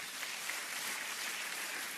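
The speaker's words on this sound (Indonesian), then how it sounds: "Tepuk tangan sama Tuhan Yesus." A church congregation bursts into dense, even applause during a sermon, a continuous hiss of many hands clapping at once with no talk over it.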